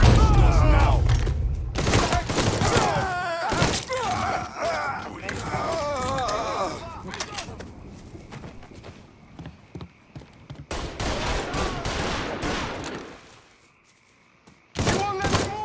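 Bursts of gunfire fill a shootout in the video game Mafia III, with close, loud repeated shots and thuds alongside shouted voices, easing into a near-silent gap before a final burst.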